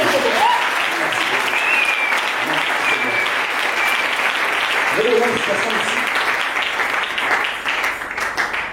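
A church congregation applauds, with dense, sustained clapping filling the space for several seconds, mixed with voices and cheers, then thinning slightly toward the end.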